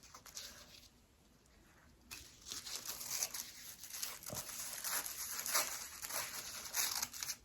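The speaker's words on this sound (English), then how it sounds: "So we just cut into the tissue paper" Scissors snipping through folded tissue paper petals held against a palm, giving a soft, continuous papery crinkle and rustle close by, steady after a quieter opening pause.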